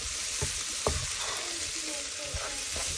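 Tomatoes sautéing in a pan for Kerala-style ellu curry, giving a steady close sizzle and frying hiss, with a few soft stirring scrapes and clinks of a spoon against the pan.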